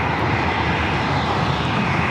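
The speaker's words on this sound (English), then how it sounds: "Dreamliner is going to be taken off to Tel Aviv" A Boeing Dreamliner jet departs from LAX, a steady, loud broadband roar of jet engines holding evenly throughout, with a deep rumble underneath and no talking.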